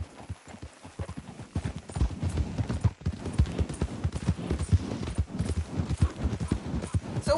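Rapid hoofbeats of a galloping horse in Red Dead Redemption 2 pound steadily and close, with a brief whinny-like sound mixed into the thudding rhythm.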